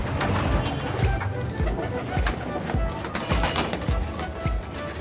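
Teddy breeder pigeons cooing in a loft, repeated soft throaty coos close by with rustling and faint wing movement, a voice murmuring now and then.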